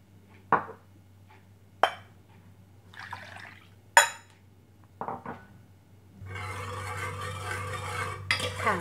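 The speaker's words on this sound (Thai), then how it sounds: "เดี๋ยวเราจะเริ่มจากไปทำน้ำเชื่อมกันก่อนโดยการที่ใช้หางกะทิผสมกับน้ำตาลทรายให้พอเขาละลายนะคะ" Spoon clinks sharply against a pot a few times while coconut milk and sugar are stirred together for syrup, followed by a steady bubbling, sizzling wash of liquid heating on the stove.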